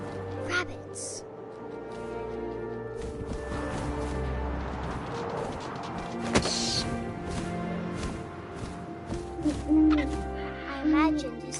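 An owl hooting in the video game What Remains of Edith Finch, soft hoots under a narrator's voice, with wind-like ambience and a few sharp thuds and rustles.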